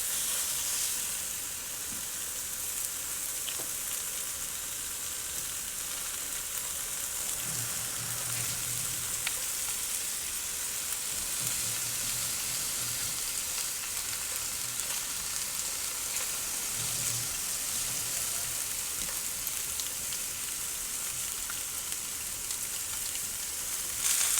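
Lamb chops frying fat side down in a hot pan give a steady, even sizzle and crackle that lasts the whole time with no one talking, plus a few low bubbling pulses and occasional sharper pops.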